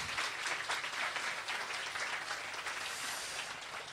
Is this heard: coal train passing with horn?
no